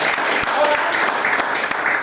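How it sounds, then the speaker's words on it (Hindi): An audience at a company networking event breaks into steady, dense applause, loud and close, with many hands clapping together throughout. "आप सभी के लिए जोरदार तालियां।"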